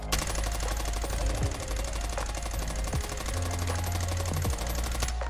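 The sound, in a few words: gunfire from a video game, shooting without recoil control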